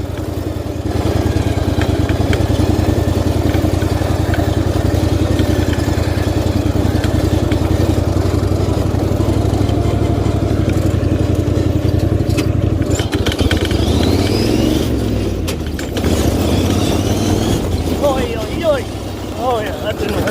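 An off-road riding lawn mower runs at high speed with a loud, steady buzzing engine drone, briefly dipping and revving midway, while faint whistling squeals rise near the end.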